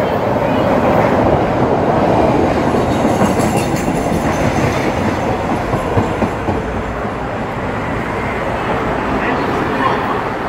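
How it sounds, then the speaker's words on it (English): Chicago elevated train rolling steadily along the rails, a constant loud rumble with rattling clatter throughout, close by as if heard from on board. "about to jump up on this train"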